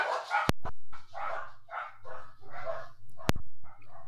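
A dog barks repeatedly in a rhythmic string of sharp yaps, close and loud, with a faint low hum underneath and no talk over it.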